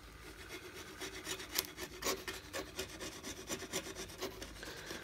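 A scraper drags softened paint off a wooden surface in one continuous pass, giving a close, rasping stream of rough scrapes with a steady, rhythmic texture.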